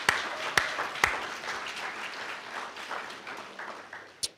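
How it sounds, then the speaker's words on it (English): Audience applause at a building dedication ceremony, a moderate patter of clapping with a few sharp louder claps near the start and end, thinning out toward the close. "i just like a round of applause for that fabulous performance"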